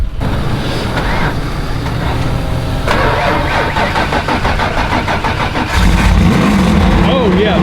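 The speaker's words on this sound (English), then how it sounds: "once you jump it off, leave the truck running" A truck with a stock-block race engine fires up after a jump start and runs loud and rough close by, then revs harder toward the end, with people talking over it.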